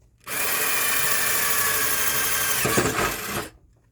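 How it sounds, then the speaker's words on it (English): A power drill whines loudly at a steady high pitch for about three seconds, roughening briefly as it bites through while drilling a 1/4 inch hole in an outrigger canoe kit, then cuts off. "I'm going to drill a 1/4 inch hole"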